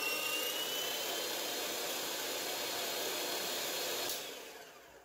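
A Presto electric grater/slicer shreds cheddar cheese with a steady, close, high motor whine that holds level and then winds down near the end.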